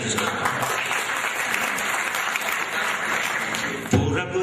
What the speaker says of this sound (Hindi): आप ताली बजाकर मुझे आशीर्वाद करें